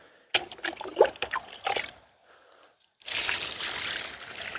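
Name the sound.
water trickling while watering eggplant plants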